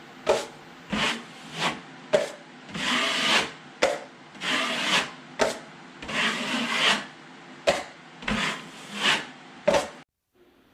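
A putty knife wiping joint compound across a drywall patch on a wall, repeated rasping strokes about once a second, close and fairly loud, ending in silence.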